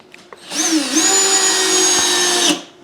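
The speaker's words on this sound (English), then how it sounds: "I'm going to go get another drill." A power drill whirs for about two seconds in a single steady run, close and loud, spinning up and winding down.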